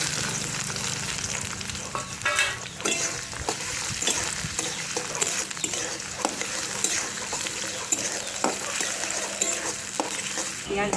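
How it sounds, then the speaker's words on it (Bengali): Onions frying in hot oil with cardamom, cinnamon and bay leaf in a home kitchen, a steady close sizzle with crackles and occasional scraping stirs of the pan, brief talk now and then. "পেঁয়াজ ভাজা হয়ে গেছে,"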